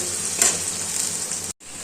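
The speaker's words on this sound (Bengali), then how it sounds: "তো যাই কলাটা ভেজে নিয়ে আগে আমি" Loud, steady hiss of plantain frying in oil close up, with a brief louder spatter near the start, then a sudden cut to silence before the sizzle resumes.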